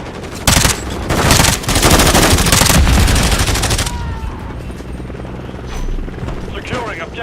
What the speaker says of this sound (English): Enemy Overwatch Helo inbound.